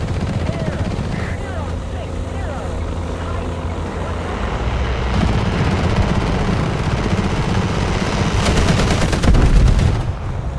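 Anti-air gunfire aimed at drones in the War Thunder video game, rapid bursts over a droning aircraft or helicopter engine, growing denser and louder toward the end, with a faint voice mixed in.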